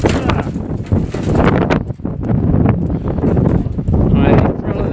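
Strong gusts of about 56 mph buffet the microphone outdoors, a loud, continuous low roar with brief dips and surges throughout.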